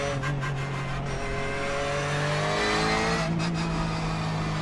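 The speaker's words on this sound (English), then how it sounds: "Oh man, the sound of the engine." A Porsche GT3 Cup race car engine in the iRacing sim drones steadily with rising harmonic tones as it accelerates, loud and continuous with no talking.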